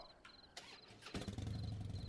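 A Harley-Davidson Fat Boy motorcycle engine in Arma cranks and starts with a custom sound, then settles into a steady low rumble, preceded by a few brief mechanical clicks and beeps.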